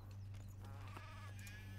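Sheep bleating in the video game Craft the World, a few wavering cries over a steady low hum of game sound, soft and alone without speech.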